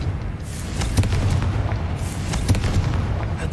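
Confringo blasting spells from the video game Hogwarts Legacy explode with heavy booming blasts. Two sharper bursts stand out over a constant rumbling background, loud and close.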